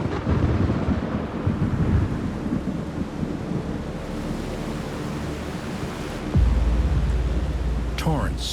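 Thunderstorm effect evoking epic prehistoric storms over the continents: steady broadband rain and rumble with a deep thunder roll swelling from about six seconds, loud and continuous throughout.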